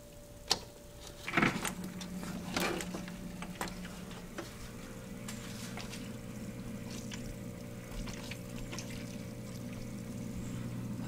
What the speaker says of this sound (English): Okay, we definitely have water going through everything.